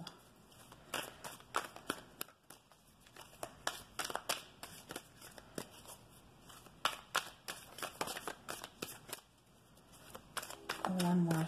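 Tarot cards being shuffled in repeated crisp riffling bursts, close and fairly quiet, with a brief muffled voice-like sound near the end.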